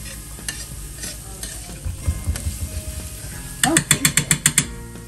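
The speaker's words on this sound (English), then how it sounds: "I keep moving it around because I don't want it to stick and burn. Especially with the garlic" Garlic sautéing in a pan as a utensil moves it around, a soft sizzle under a run of rhythmic scraping taps that grows into a louder burst of quick clacks near the end.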